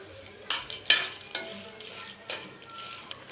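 Eggplant frying in oil in a pan is stirred with a utensil, giving several sharp scrapes and clinks over a soft continuous sizzle, close by, with no speech.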